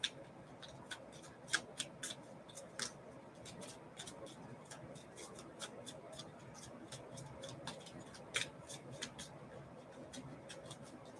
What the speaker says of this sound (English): The way it shuffles changes. It feels different.